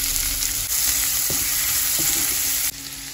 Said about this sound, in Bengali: এই যে মাছ ভাজার তেলেই এবার একটু কালো জিরে, একটা কাঁচা লঙ্কা, পেঁয়াজটা দিয়ে দেবো